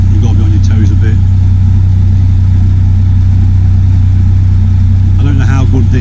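A steady, low narrowboat engine drone runs throughout at close range, with brief bursts of a voice near the start and end.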